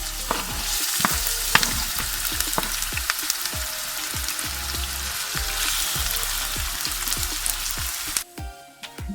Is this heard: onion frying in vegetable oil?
yes